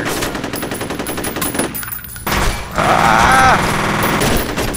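Rapid gunfire from a shotgun in the shooter game F.E.A.R., loud and close, with bursts of shots over a busy game soundscape and a brief shouted exclamation from a player.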